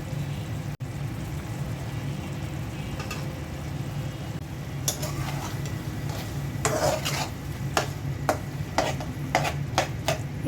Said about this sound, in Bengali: এখন কচুর শাকটা দিয়ে দিচ্ছি।